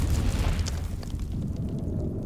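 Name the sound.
grenade explosion in Dune Awakening video game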